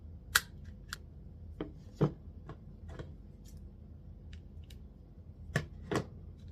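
A dull handheld cutting tool snaps through handmade business items in sharp, separate clicks and crunches, irregularly spaced and close, over a low background hum, with no talk.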